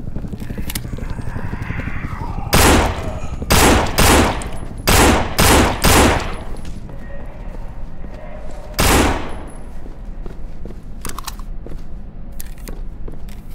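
Gunfire in the zombie shooter No More Room in Hell, loud close shots in a quick string of about eight, then a lone shot and a few fainter pops over a steady background hum.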